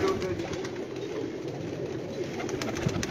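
Pigeons coo softly and continuously from a rooftop loft, with low murmuring calls over a steady background hiss and no clear talk.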